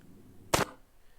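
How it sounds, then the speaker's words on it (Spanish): A single sharp pistol gunshot, loud and close, standing alone in an otherwise quiet moment during a forensic ballistics demonstration. "efectúa el disparo, tira hacia atrás la chimasa, expulsa la vaina servida"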